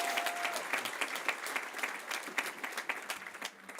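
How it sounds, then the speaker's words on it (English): Sustained applause from a large crowd at the 2025 LMU undergraduate commencement: dense, steady clapping that holds fairly level and thins slightly toward the end. "That deserves a round of applause,"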